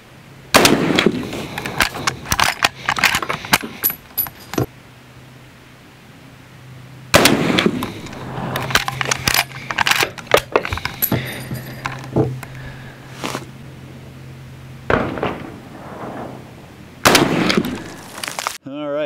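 Model 1894 Winchester lever-action rifle chambered in 38-55 firing two sharp, loud shots several seconds apart, each followed by a long ringing decay, with handling clatter between them.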